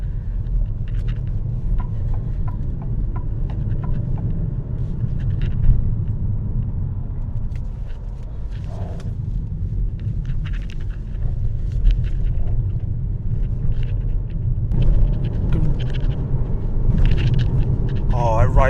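A 2026 Alfa Romeo Tonale Sport Speciale accelerating, heard from inside as a steady low engine and road rumble that swells slightly at moments, with a person talking over it.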